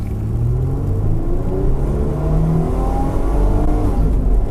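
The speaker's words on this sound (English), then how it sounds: "I'm just going to floor the throttle." A 2008 Mitsubishi Pajero with a 3.8-liter engine accelerates hard at full throttle from a stop, its exhaust note a deep, continuous rumble that climbs steadily in pitch as it revs, heard from inside the vehicle with no talking.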